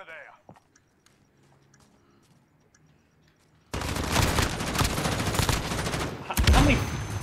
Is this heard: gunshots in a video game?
yes